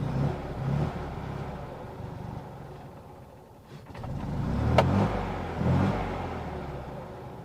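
A Fiat 500 engine hums steadily while driving, a faint, low whir that dips briefly and then swells again as the small car accelerates.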